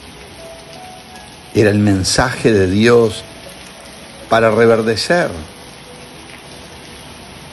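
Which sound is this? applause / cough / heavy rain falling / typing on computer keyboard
heavy rain falling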